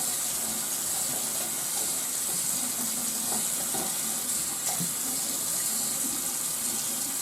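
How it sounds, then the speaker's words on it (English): Steady rushing water runs throughout, like a tap flowing, with faint splashes and drips mixed in as water is splashed on a face; no voices. "I go about here down with the water from my hands"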